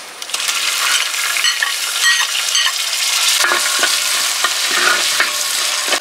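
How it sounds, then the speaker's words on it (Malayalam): Crushed ginger, garlic and green chili sautéing in hot leftover oil while being stirred, a steady loud sizzle with scraping spoon strokes against the pan throughout, close and without talk. "ഈ ബാക്കി വന്ന എണ്ണയിലേക്ക് നമ്മൾ ബാക്കിയുള്ള സാധനങ്ങളൊക്കെ വഴറ്റിയെടുക്കാണ്ട്"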